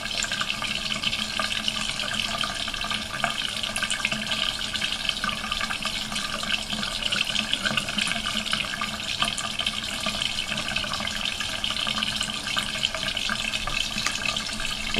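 Makeup brush swished in water inside a jar of brush-cleanser crystals; continuous close splashing and sloshing water, steady and unbroken, with no talk.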